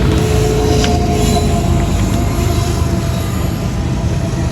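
A freight train locomotive rolls past close by in Richmond, Virginia, a steady loud rumble of engine and wheels with faint metallic squeal tones running throughout, no voices.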